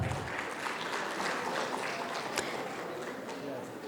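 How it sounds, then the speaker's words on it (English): Audience applause at a corporate presentation event, a steady dense wash of clapping that holds for the whole stretch with murmuring voices mixed in. "Let's give a huge round of applause to our next speaker."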